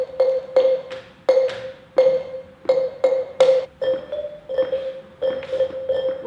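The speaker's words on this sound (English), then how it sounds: "gather around wooden xylophones on tables" Wooden xylophone struck with mallets: about a dozen clear, bright bar tones at an uneven pace, close and distinct, each ringing briefly before the next hit.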